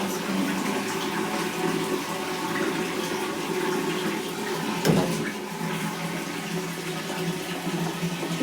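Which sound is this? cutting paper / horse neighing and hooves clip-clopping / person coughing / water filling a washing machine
water filling a washing machine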